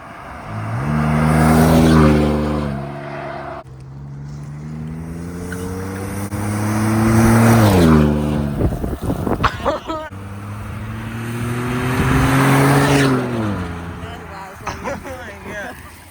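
A Ford F150 pickup fitted with a Flowmaster Super 44 performance muffler, driving and crossing a highway: loud, deep exhaust drone rising and falling through repeated accelerations and gear changes, with wind noise and a voice talking over it.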